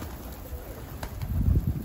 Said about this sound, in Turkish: Şu kuşların çatırdamaması lazım